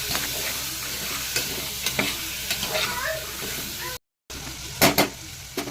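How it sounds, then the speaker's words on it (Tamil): Chickpeas with turmeric are stirred and mixed in a hot pan for chickpea kuzhambu, with a steady sizzle and repeated scraping strokes, a brief dropout, then louder clattering stirs. "மூக்கடலையை போட்டு நல்லா மிக்ஸ் பண்ணிக்கலாம்"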